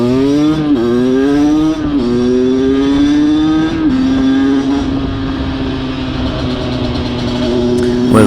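A small motorcycle fitted with a VOCA Rookie 50/70 exhaust is ridden through a village. Its loud, buzzing engine is close and alone, rising in pitch through a few quick gear changes, then holding a steady drone.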